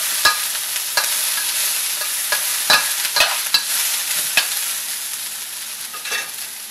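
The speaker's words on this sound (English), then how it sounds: "Now we're going to put our onions in the pan. And we're going to stir it up a little bit." Onions and ginger fry in a pan with a steady bright sizzle, while a utensil scrapes and taps against the pan in irregular stirring strokes, close up with no speech.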